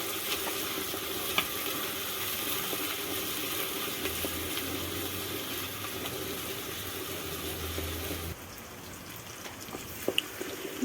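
Garlic and onion fry on a mud stove, a steady, close sizzle and crackle of oil running throughout, with faint stirring and a slight drop in level near the end.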